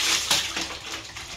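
Laundry being hand-washed in El Salvador gives a short, close burst of swishing, splashing water with soft irregular surges.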